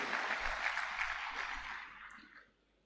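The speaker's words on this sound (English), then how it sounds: "So please give yourself a round of applause" A crowd at a military cadets' graduation ceremony applauds with dense, steady clapping that fades out over a few seconds.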